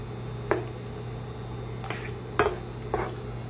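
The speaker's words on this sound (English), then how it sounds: "I'm going to do those tomatoes, fire roasted tomatoes. Get them in there. We're going to mix them up." Fire-roasted tomatoes tipped into a pot and stirred bring a few scattered utensil clanks and soft scraping knocks against the pot over a low steady hum, with no voices.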